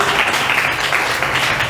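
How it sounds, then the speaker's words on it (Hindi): An audience claps for a bride during a church sermon on the Jewish wedding, a dense, continuous wash of applause filling the whole moment. "गो ताली बजाओ दुल्हन के लिए"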